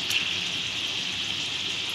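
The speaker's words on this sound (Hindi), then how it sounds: "छोले हमारे फ्राई हो रहे हैं" Soaked chickpeas frying in hot oil give a steady, dense sizzling hiss, close and even throughout with no talking.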